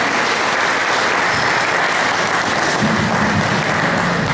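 Sustained audience applause at a Spanish-language lecture on women's empowerment, a steady dense wash of clapping throughout, with a faint voice briefly audible beneath it near the end.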